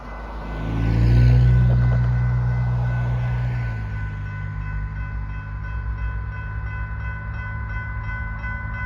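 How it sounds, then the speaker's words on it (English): A light-power Ann Arbor Railroad train rumbles past close by at a crossing on Textile Road, a loud low roar swelling in the first seconds and then settling into a steady rolling drone of cars. "We have a train coming, check it out."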